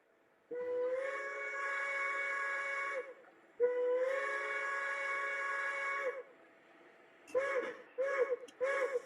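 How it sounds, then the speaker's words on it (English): A model train's three-chime steam whistle sounds two long blasts followed by several short toots, fairly faint with a slightly tinny, small-scale tone. "Is that whistle prototypical? Yeah, that's a 3 chime."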